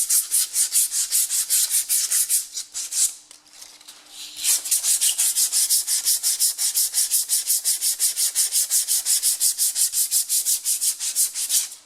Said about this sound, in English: I usually like to give the bearing surface here a little smooth out.